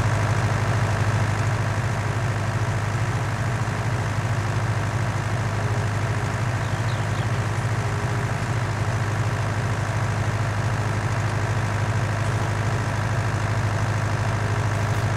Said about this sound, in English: I really like this little Fiat 1300. Cool little tractor.